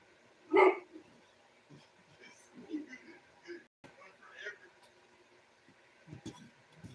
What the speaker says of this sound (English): Doggy's barking at her own bark.